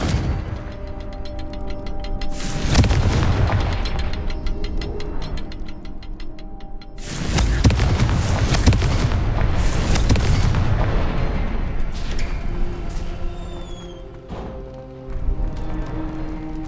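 Confringo fire spells explode in Hogwarts Legacy, producing heavy, loud booms in two large bursts with rumbling tails, set against a sustained musical drone and a few quieter impacts.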